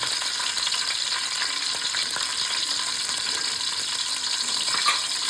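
Curry leaves crackle and sizzle in hot oil alongside green chillies while fish curry is cooked at home, a steady dense frying hiss with small pops throughout, no talking.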